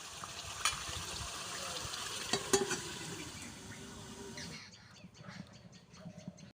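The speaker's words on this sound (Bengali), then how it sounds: "আমি এইভাবে 15 থেকে 20 মিনিট এইভাবে কষিয়ে নেব" Goat meat being sautéed with spices in a pan, a soft steady sizzle with scattered stirring clinks and scrapes, fairly faint and close, easing quieter toward the end.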